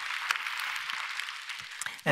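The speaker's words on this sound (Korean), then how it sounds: "좋으신 하나님께 박수로 감사합니다" A congregation at a Korean church Sunday service claps together in a soft, continuous hiss of hands that holds steady for two seconds. A voice cuts in right at the end.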